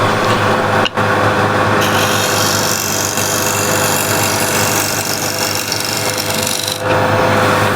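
A shear scraper rasps continuously across a spinning walnut and ash bowl on a wood lathe, a dense steady scraping over the machine's drone, close and loud with a brief break near the start and no speech.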